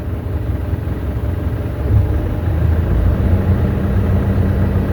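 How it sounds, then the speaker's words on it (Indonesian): A vehicle engine running rough with a low, heavy rumble that makes the body vibrate, building slightly louder partway through and holding steady without talk. "Pasti ada kondisi mesin yang tidak bagus nih teman-teman."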